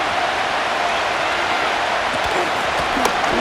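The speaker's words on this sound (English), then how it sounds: "This crowd into it now as we get to 3rd down." Stadium crowd in Madden NFL 25 roaring on third down during a Packers versus Bears game, a broad sustained cheer with a few brief louder bursts near the end.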